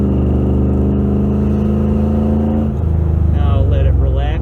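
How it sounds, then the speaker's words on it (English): A 2001 Ford E350 Super Duty van with budget modifications accelerates at quarter throttle, its engine droning loud and close, then rising in pitch as it pulls harder, with someone talking over it. "Now I'm gonna go give it a little goose. This is a quarter throttle"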